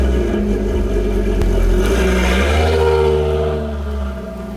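Audi RS3 engine heard from inside the car while driving, a steady low drone with a rising rev partway through, loud and continuous before easing off near the end.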